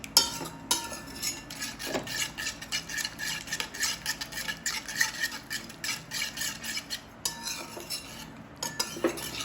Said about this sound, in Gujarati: હલાય જવાનું એટલે ફાટે નહીં.